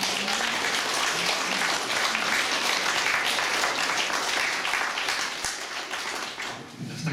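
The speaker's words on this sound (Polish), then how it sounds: "Proszę o brawa" An audience at the Satyrykon 2018 satire event in Warsaw gives sustained applause, a full, even roar of many hands clapping that continues for several seconds without speech.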